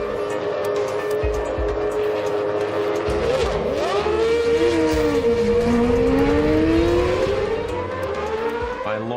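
Formula One cars roaring off the grid at Silverstone as the start lights go out, several loud engines revving hard together with rising and falling pitch sweeps, a continuous dense wall of engine noise with no talk.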